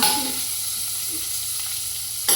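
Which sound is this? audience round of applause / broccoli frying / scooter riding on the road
broccoli frying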